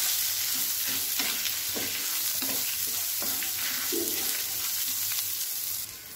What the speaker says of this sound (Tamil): இதில் நான் வெங்காயத்தை சேர்த்துக்கிறேன், அது கூடவே கம்பு. இதை நல்லா பொன்னிறமாக நல்லா கொஞ்சம் வதக்குவோம்.